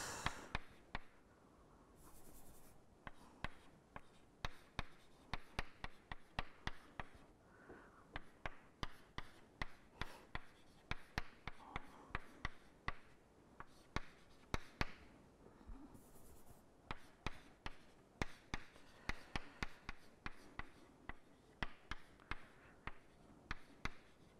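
Chalk or marker writing on a board during a math lecture on basis functions: quiet, rapid taps and short strokes in irregular bursts, with brief pauses between.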